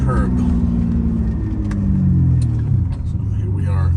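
A 2003 Ferrari 575 Maranello with a six-speed manual drives along a twisty road from inside the cabin, its engine a loud steady drone with pitch gliding down as revs ease, while someone talks over it.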